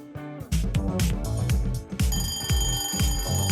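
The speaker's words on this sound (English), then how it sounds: "An alarm sound effect when time's up" A digital alarm-clock style beeping sounds as a time's-up cue, with rapid repeated electronic pulses in a steady rhythm. It is loud and close, with no one talking over it.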